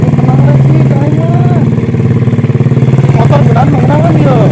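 A motorcycle engine runs steadily at close range with a loud, continuous low hum, while voices talk over it throughout.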